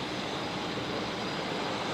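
Qantas 628 airliner just after landing at Brisbane Airport, in from Melbourne, a steady broadband engine roar holding at even loudness for two seconds, with no voices.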